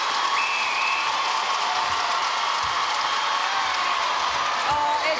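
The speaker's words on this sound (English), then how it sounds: "The crowd have gone crazy here at Ken Rosewell Arena" An arena crowd roars with cheering and applause at a Suncorp Super Netball match between the Giants and the Fever in Sydney, a dense, steady wash of noise throughout with a faint voice beneath it.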